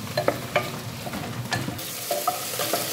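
Onions, garlic and tomatoes sauté in a pan for squash adobo, a steady crackling sizzle under repeated sharp scrapes and clinks of a utensil stirring, close and fairly loud with no talk.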